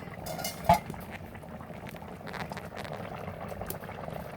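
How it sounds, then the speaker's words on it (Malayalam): A pot of mackerel fish curry boils steadily at close range, with a dense, continuous bubbling and simmering hiss throughout and a single brief clink early on, no voices present. "നല്ല തിളയ്ക്കുന്നുണ്ട കണ്ടോ തിളയ്ക്കുന്നേ"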